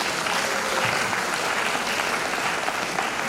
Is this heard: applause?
yes